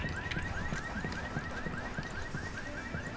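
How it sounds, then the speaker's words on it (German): A car alarm in the video game Ghost Recon Wildlands wails in a fast, steady repeating chirp, loud and close over a low background rumble, with no speech. "Alarmanlage."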